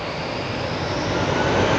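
A Brussels Airlines jet on Heathrow Airport runway 27R gives a loud, steady broadband roar that swells slightly over a couple of seconds, with no voices over it.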